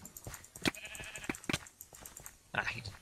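Sheep bleat in the Minecraft game during a sheep-stealing mini-game, short blocky game bleats and clicks, fairly faint and mixed with other game noise.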